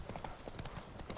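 Horse hooves clip-clopping in a video game, a quick, steady run of close hoof beats over a constant background bed.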